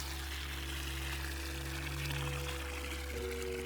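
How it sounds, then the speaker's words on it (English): Water pours steadily into a watering can in the video game Wanderstop, a continuous close splashing rush that runs throughout, with soft sustained musical tones in the background. "Water for the watering can."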